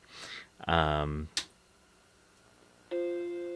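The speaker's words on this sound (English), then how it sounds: "Chime." A Macintosh Classic II startup chime rings as a short, clean sustained tonal chord near the end, coming after a voice and a sharp click.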